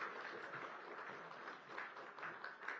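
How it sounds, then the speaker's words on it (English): An indoor audience gives a round of applause for a speaker's introduction at an economics event, with steady, moderately faint clapping lasting a few seconds and no voices over it. "Please give a big round of applause for Mr."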